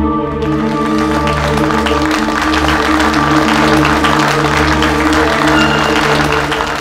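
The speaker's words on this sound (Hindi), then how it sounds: "सभी तालियां बजाने में व्यस्त हैं।" A royal-court crowd in a historical drama applauds loudly and steadily after a contest ends, with sustained musical drones sounding beneath the clapping.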